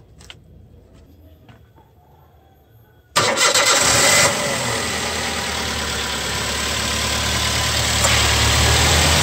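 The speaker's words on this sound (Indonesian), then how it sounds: "sekarang kita hidupkan mesin dulu. Saya akan menghidupkan mesin." A car engine cranks and fires after a quiet stretch, then settles into a loud, steady idle that carries on alone, with the air conditioning about to be switched on for a refrigerant recharge.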